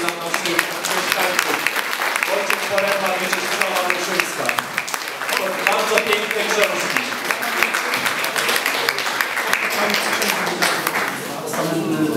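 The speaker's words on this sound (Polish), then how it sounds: "Ale wielkie brawa" A crowd gives sustained, loud applause at an outdoor ceremony for the 100th anniversary of Polish independence in Mierzeszyn. Dense clapping continues throughout, with some voices mixed in.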